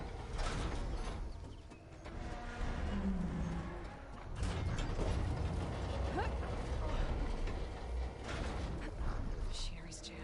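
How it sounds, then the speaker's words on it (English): Jammed machinery in the video game Horizon Forbidden West, a stalled satellite dish mechanism, gives off steady grinding creaks and ratcheting clanks over a dense mechanical bed, with a brief voice in the mix. "Machinery's jammed."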